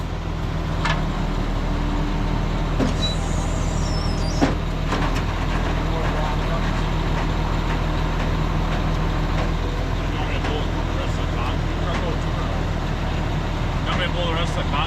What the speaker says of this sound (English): Pull the rest of the concrete truck out or no?